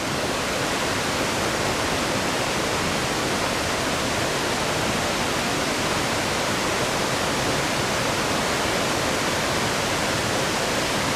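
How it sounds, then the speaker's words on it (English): A rushing mountain stream by a picnic spot in the Great Smoky Mountains gives a dense, steady roar of water, loud and continuous throughout with no voices. "there's just not a greater sound on earth than a rushing mountain stream"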